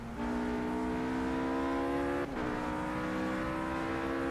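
A race car engine at Monza in the video game Project Cars holds a steady high-revving whine that climbs, drops sharply at a gear shift, then rises again, loud and continuous.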